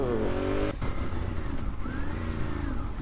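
A scooter rides through Paris traffic, its engine note rising and falling steadily, with a brief sharp break near the start and surrounding vehicle rumble throughout.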